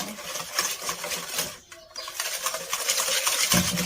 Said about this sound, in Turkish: Hepsini güzelce çırpıyorum.